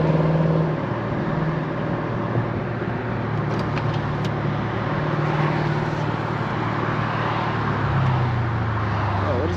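Car traffic at night heard from inside a moving car: a steady low road rumble and engine drone, with other vehicles blending into the constant wash, no talking.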